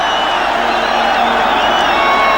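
A large football stadium crowd at an Argentina v Chile Copa America match in 1995, a dense, steady roar of cheering and whooping filling the background throughout.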